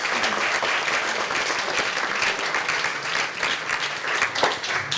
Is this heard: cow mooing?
no